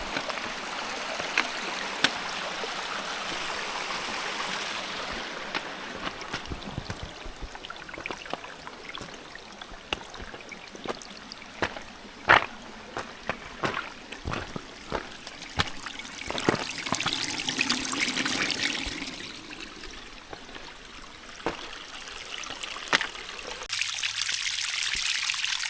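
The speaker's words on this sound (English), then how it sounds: "There is no shortage of water today on this trail, on any trail really." Rainwater streams and trickles along a hiking trail in the White Mountains near Mount Hale, a steady close babble with scattered splashes and clicks running throughout, no voices over it.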